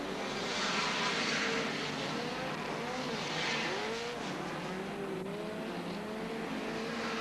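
Hot rod race cars lapping a track at Ipswich in 1979, their engines a steady loud roar with rising and falling pitch as they pass, continuous throughout.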